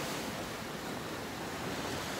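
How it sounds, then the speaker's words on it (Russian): Ocean waves and surf wash in a steady broadband roar, faint and continuous with some wind across the microphone and no voices. "И приехали сейчас на океанчик"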